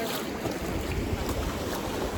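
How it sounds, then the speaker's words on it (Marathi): River rafting on the Kameng River, a continuous rush of moving water and wind buffeting the microphone, loud and close, with no voices. "So we are doing river rafting in Kameng River."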